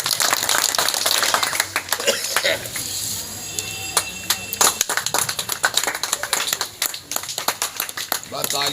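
Scattered hand clapping from a village gathering of a farmers' union meeting, sharp irregular claps of varying loudness running throughout with a fuller burst near the end, heard under and between talking.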